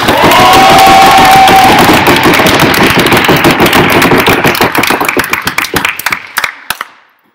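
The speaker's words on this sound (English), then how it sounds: "we'll give you a rousing round of applause" A debating chamber audience breaks into loud, dense applause, a sustained roar of many hands clapping with some cheering, then thins into scattered individual claps that trail off to silence.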